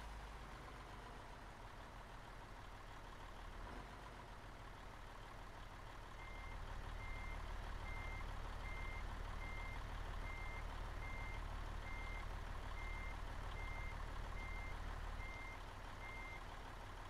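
A heavy truck in a driving simulator game reverses with a steady series of evenly spaced beeps repeating over a constant low engine rumble that swells slightly partway through.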